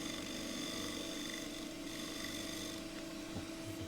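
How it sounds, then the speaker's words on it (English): A wing gouge shear scrapes a bowl of very green photinia wood spinning on a lathe, giving a continuous, close rasping hiss over the lathe's steady hum, with no talk. "I'm going to use this wing now to shear scrape"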